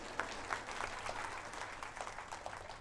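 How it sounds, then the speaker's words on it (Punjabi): A room of teachers at a workshop applauds, a faint, steady patter of many hands clapping that lasts the whole time, heard from a distance. "ਤਾੜੀਆਂ ਤਾਂ ਵਜਾ ਦਿਓ ਫਿਰ"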